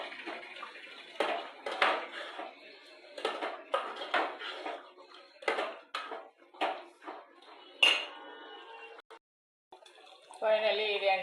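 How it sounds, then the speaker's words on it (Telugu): A spoon stirs salt into chicken curry in a cooking pot, with repeated clanking and scraping strokes in an irregular rhythm, close and fairly loud, followed by a brief pause and a final burst of stirring. "సాల్ట్ వేసుకొని కలుపుకోవాలి బాగా"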